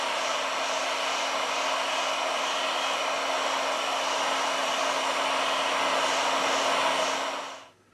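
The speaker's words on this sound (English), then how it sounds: "With the help of a heat gun, we apply 90 Celsius degrees during 4 minutes." A heat gun warms the back panel of a Huawei P40 Pro Plus phone to loosen it for battery replacement, giving a steady, close airy blowing hum that holds for several seconds and then cuts off.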